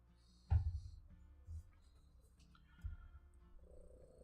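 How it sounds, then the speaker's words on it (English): A sleeping dog snores softly nearby, with a few low, raspy breaths spaced about a second or more apart, faint against a quiet room. "Do you guys hear my dog snoring?"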